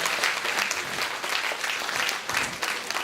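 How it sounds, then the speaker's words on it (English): An audience at a scholarship brunch claps in a warm, sustained round of applause, dense and continuous from many hands, heard alone without speech. "Would you please give him your biggest, warmest round of applause"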